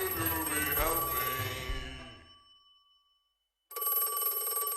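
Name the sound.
telephone ringing in Don't Hug Me I'm Scared song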